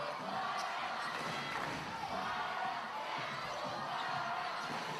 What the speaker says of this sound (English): Crowd full of voice at the Townsville Entertainment Centre